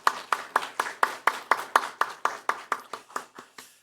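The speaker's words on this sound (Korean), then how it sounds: "우리 하나님께 영광의 박수 올려드리도록 하겠습니다." A church congregation claps in unison during a Sunday service, about fifteen sharp, even beats in a steady rhythm, fairly quiet and gradually tapering off, with no talk.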